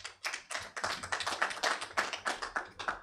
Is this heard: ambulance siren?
no